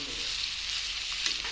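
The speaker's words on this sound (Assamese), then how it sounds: "তাৰপিছত অকণমান লৰাই দিম।" Assamese-style mutton curry masala with added spice water bubbles and sizzles in a pan, a brief, steady, dense hiss close up with a faint stirring scrape near the end.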